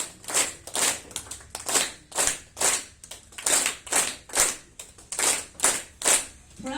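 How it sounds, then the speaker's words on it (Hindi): An audience at a Youth For Global Peace gathering in Indore's Rambagh clapping together in a steady, even rhythm, about two claps per second, fairly close, with a voice occasionally heard. "आप जरा अपने आप के लिए जोर से ताली बजाइए"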